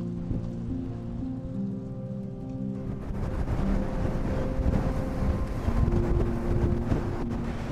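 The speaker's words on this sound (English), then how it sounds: "My goodness, it's windy, really windy." Strong coastal wind blows across a shingle track by the wash near a bird reserve, a dense steady roar buffeting the microphone. It builds louder partway through and carries no voices.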